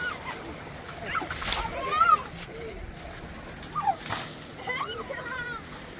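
Water splashes and sloshes repeatedly nearby while village children bathing outdoors in the mountains shout and voices talk over the playful splashing.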